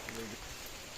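Steady rain falls outdoors in rural Bangladesh farmland, a dense even hiss that fills the whole brief moment without pause.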